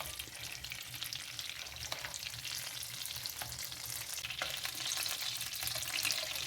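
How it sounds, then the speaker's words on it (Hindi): Butter melting with oil in a pan, giving a steady close sizzle and crackle that carries on without a break and swells slightly toward the end, with no voices. "ये देखिए फ्रेंड्स, बटर मेल्ट हो रहा है"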